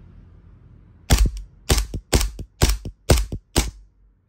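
Cybergun WE Desert Eagle .50AE airsoft gas blowback pistol firing six rapid shots, each a sharp crack with a mechanical slide clack, evenly spaced about half a second apart, close and loud.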